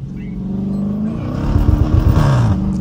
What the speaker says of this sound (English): This bitch cannot catch traction, Rio.